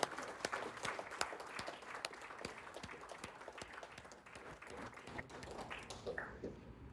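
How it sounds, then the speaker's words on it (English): Steady crowd applause at the Tata Mumbai Marathon launch event fills the room, many hands clapping densely throughout, with a few louder claps standing out, tapering slightly near the end. "a big round of applause for both of them, ladies and gentlemen."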